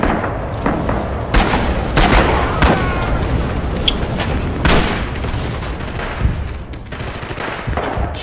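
Hand mortar shells burst in a chaotic video game battle, loud booms and sharp cracks mixed with gunfire in dense, overlapping waves, with no talk.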